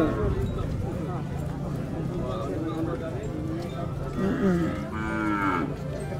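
Water buffalo (carabao) moo at a livestock trading spot, several drawn-out lows rising near the end. People talk throughout, and hooves clop faintly in the background.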